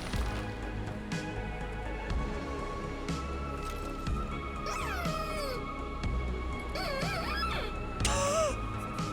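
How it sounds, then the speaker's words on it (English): A cat-like yowling from a mount in the World of Warcraft video game rises and bends in several wavering cries over a low game background, no speech over it. "Sounds like cat in the middle of the night."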